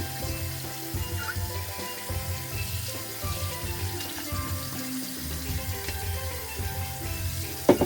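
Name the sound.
water running from a tap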